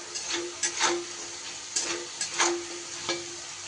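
Potatoes fry in oil with salt and turmeric, a soft background sizzle punctuated by several sharp scraping strokes of a spatula stirring the pan, close and unaccompanied by talk.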